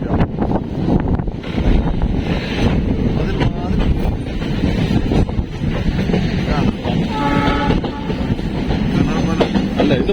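Passenger train running through the rocky cuttings and tunnels of the Western Ghats mountains, a steady loud rumble and rattle of wheels on track with wind buffeting throughout, heard from on board.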